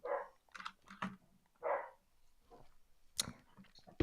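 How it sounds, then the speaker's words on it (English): A pet dog barks a few times at a distance, short separate yelps spaced across a few seconds with quiet gaps between them. "Whose dog is barking? That's my dog."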